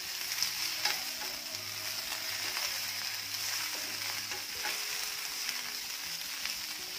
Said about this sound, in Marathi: मध्यम आचेवर भेंडी सगळ्या बाजूने छान अशी भाजून